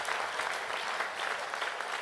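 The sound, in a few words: round of applause at banquet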